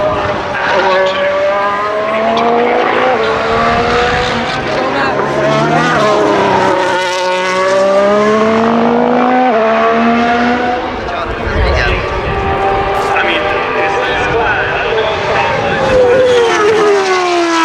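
2025 Formula 1 cars racing at Silverstone during the British Grand Prix, loud high-revving engines with rising and falling pitch sweeps as cars pass, layered continuously with crowd noise and some talk underneath.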